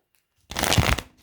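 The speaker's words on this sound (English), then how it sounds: "Oh, that was a horrible shuffle." Tarot cards are shuffled in one quick, papery riffle lasting about half a second, close to the microphone in an otherwise quiet room.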